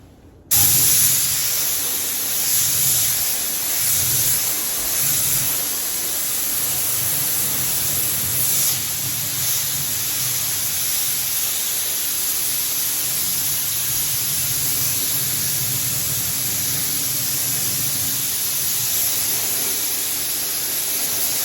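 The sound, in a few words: spraying tire dressing onto tires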